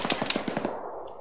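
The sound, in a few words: gunfire in the video game Arma 3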